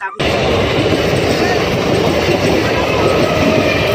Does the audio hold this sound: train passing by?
yes